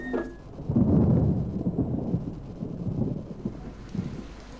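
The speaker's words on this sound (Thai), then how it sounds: "ฝนคือฝันร้ายที่สุดของทีพอต" Heavy rain pours steadily while deep thunder rumbles close by, swelling loudly early on and then rolling on beneath the downpour.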